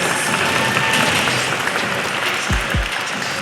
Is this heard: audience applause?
yes